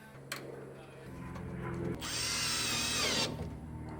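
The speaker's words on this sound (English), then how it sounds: "Now we'll just put the screws back in." A power drill drives screws back in during an LED bulb installation on a 2020 Chevy Silverado RST, a low motor hum rising into one close, high whirring run of about a second.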